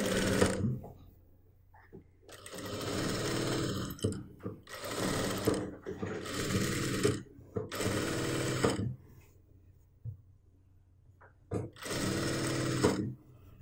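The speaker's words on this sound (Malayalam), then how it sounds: "എന്നിട്ട് നമുക്ക് ഇവിടെ നിന്ന് സ്റ്റിച്ച് ചെയ്യാം." A sewing machine stitches a churidar neckline in several separate bursts of rapid whirring, each lasting about a second or so, broken by short quiet pauses and small handling clicks.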